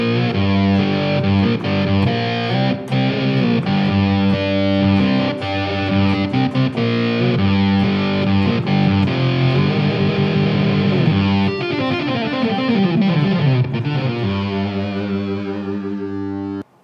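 A harpejji played through a distortion effect on a Line 6 HX Effects unit chugs out heavy, gritty power chords in a steady driving rhythm, loud and sustained with a ringing tail at the end.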